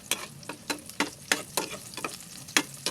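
Chicken neck adobo is stirred in a hot pan, with regular sharp scrapes of a spatula roughly every half second over a faint sizzle, and no one speaking.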